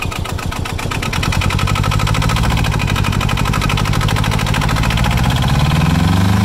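An Arctic Cat 700 diesel side-by-side engine runs loud and close, its pulsing chug rising as revs climb while setting off, heard without talk.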